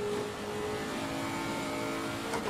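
A Ferrari engine in a racing video game drones steadily at a sustained pitch, loud and continuous with a slight rise near the end, alone without voices.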